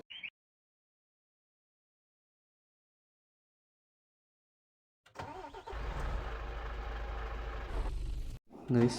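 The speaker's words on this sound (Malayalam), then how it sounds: "നമുക്കൊന്ന് കോൾഡ് സ്റ്റാർട്ട് അടിച്ച് നോക്കാം" Cold start of an abandoned bus engine in a video game: a short click, several seconds of silence, then the engine catches and idles steadily and loudly before cutting off, with a brief sound right after.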